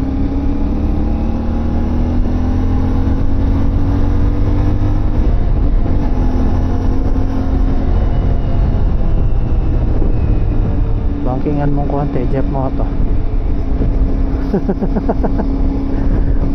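CF Moto 450MT motorcycle engine running steadily while riding, a continuous loud drone with rising gear pulls under wind noise, and someone talks over it throughout.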